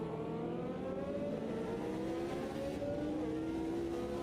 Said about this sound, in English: Like a McLaren going into the pits.